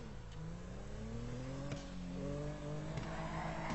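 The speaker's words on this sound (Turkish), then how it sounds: "Egzoz da patlıyor." Modded Tofaş Şahin drifting in GTA 5, its engine revving and wavering in pitch with a few sharp exhaust pops and tire noise, moderately quiet and with no voices.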